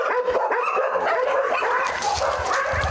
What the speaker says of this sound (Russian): Каково это жить среди лая и мяуканья?